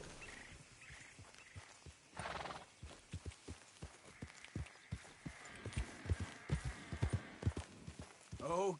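A horse galloping in the video game Red Dead Redemption 2, with rapid, even hoofbeats building in loudness and a whinny near the end, and a voice speaking quietly underneath.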